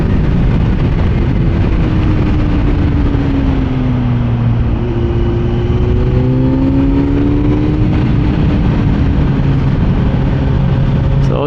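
A motorcycle accelerates hard at speed in fourth gear, around 70 miles an hour. A steady engine drone with rising pitch runs under heavy, continuous wind roar.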